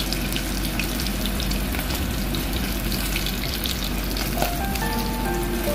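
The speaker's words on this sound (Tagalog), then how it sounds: "So yan, so mainit na po ang ating kaldero, mantika. So ilagay na po natin ang ating chicken." Flour-coated chicken pieces fry for Japanese karaage in hot oil in a pot, giving a loud, dense, continuous sizzle and crackle with no talk over it.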